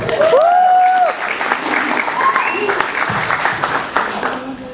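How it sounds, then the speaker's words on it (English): Audience applause for performer Xanthe Barratt at a school music performance showcase, a steady broad wash of clapping with some cheering and tonal vocal sounds over it, loud and sustained throughout. "Give her a round of applause."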